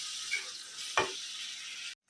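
Tomatoes and onions fry in a pan with a steady, bright sizzle that runs almost two seconds. A short stir or scrape cuts in partway through, then the sound stops abruptly.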